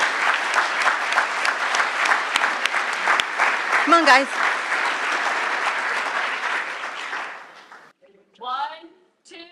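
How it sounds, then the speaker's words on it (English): Outdoor crowd applause at a university ribbon-cutting ceremony for a student center and residence hall, dense clapping for about seven seconds with cheers and a whoop, then fading out as voices speak briefly. "So let's give them all a round of applause."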